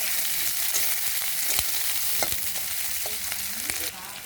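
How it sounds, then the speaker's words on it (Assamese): Onion fries in leftover fish oil in a pan, giving a steady, close sizzle with a few sharp clinks of stirring scattered throughout. "মাছ ভজা তেলখিনিতে মই এটা পিয়াজ ফ্ৰাই কৰি লম"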